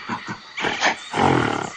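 Gorilla roar in a forest-animal setting: two short grunts followed by a loud, throaty roar and a longer rumbling growl that fades out.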